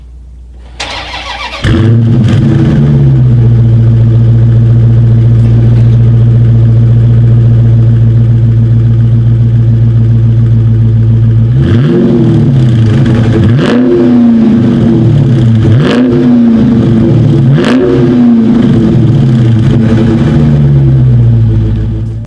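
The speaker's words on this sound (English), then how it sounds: "As always, here is that exhaust clip." A 2019 Dodge Charger SRT engine starts with a sharp crank, settles into a deep steady idle, then revs repeatedly in rising, throaty bursts through the dual exhaust before settling again.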